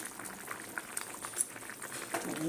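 Egg omelette curry gravy boiling on a gas stove, a soft continuous bubbling with small pops scattered throughout, quiet and close.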